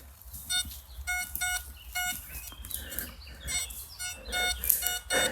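Short electronic beeps from a metal detector in a forest repeat irregularly, some higher and some lower in pitch, fairly faint against quiet outdoor background.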